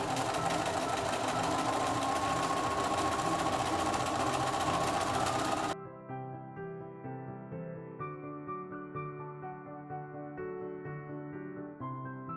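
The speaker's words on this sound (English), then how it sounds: "So you just sew on the binding and then top stitch it 2 times, and there is a walking foot" A sewing machine with a walking foot top-stitching binding onto fabric, a fast, steady mechanical whir with rhythmic needle clatter running continuously, then giving way to quieter background music.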